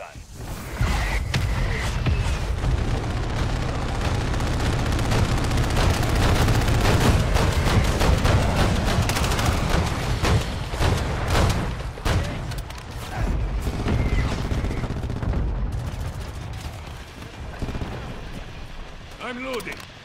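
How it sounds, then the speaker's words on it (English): Mortar strike in Call of Duty Modern Warfare 3 Invasion, heavy booming impacts and rumbling explosions layered with gunfire in a loud continuous battle, with radio voices speaking over the chaos. "Hostile mortar strike near your position"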